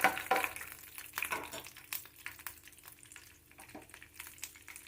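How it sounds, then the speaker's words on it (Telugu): Tempering seeds crackle and sizzle in hot oil, with sharp pops early on fading into a quieter, uneven spatter. "ఆయిల్ వేసిన తర్వాత పోపు పెట్టుకోవాలి తాలిం గింజలు వేయాలి తాలిం గింజలు వేసి వేయించుకోవాలి"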